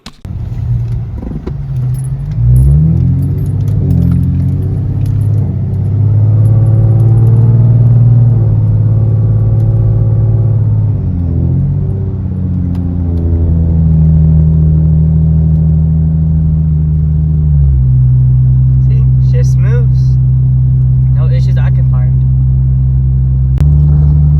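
A Lexus IS drives on the road after a transmission fluid drain and fill. Its steady engine and road rumble hold throughout, shifting pitch with gear changes, and a voice talks over it.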